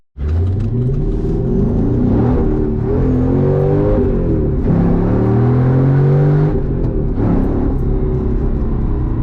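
A supercharged Mercedes W203 C32 AMG accelerates hard, its engine note rising and dipping repeatedly as stability control cuts power against wheelspin, loud and close from inside the car.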